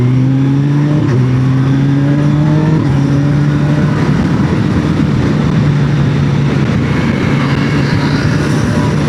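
Cars speeding along a straight, smooth road, heard from a moving motorbike ride: steady loud engine drone and wind rush with a shifting engine note that fades and levels out.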